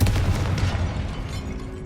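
A Confringo fire spell exploding in Hogwarts Legacy, a deep rumbling boom at the start that rolls on and slowly fades, close and loud with no talking.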